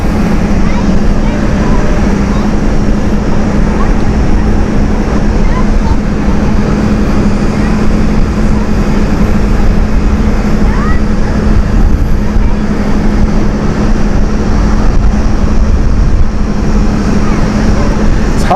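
Transavia airliner departing Amsterdam Schiphol on a hot day, a steady broadband jet roar with a low engine hum holding constant throughout, loud and unbroken.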